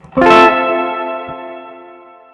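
A single guitar chord rings out through a Keeley ZOMA tremolo and reverb pedal set fully bright, a sharp attack followed by a long, slowly fading sustain.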